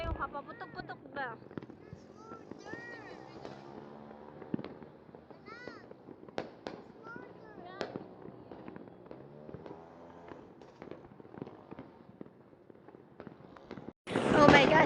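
Scattered New Year firecracker pops and crackles go off at a distance beneath ongoing chatter, ending in a sudden loud burst of close explosions.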